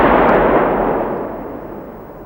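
A HEAT-T anti-tank round fired at a NATO heavy triple armoured target fitted with an ERA module: one sharp, loud blast at the start, then a broad roaring decay that slowly fades over about two seconds.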